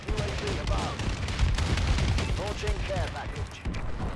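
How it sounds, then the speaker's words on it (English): In Call of Duty: Advanced Warfare, a bombing run brings rapid explosions and gunfire that crackle and boom continuously at moderate level, with a player talking over the action. "Enemy bombing run incoming. And there's a bombing run incoming."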